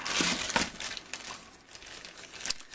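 A small paper box rustles and crinkles as it is handled up close, in irregular bursts of crackling with brief pauses.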